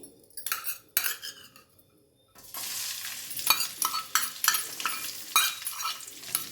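Garlic dropped into hot oil for a tempering, sizzling and frying steadily while a utensil stirs and scrapes the pan, with clinks over a continuous hiss, close and alone after a brief quieter start.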